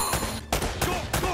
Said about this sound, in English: I hear a shotgun.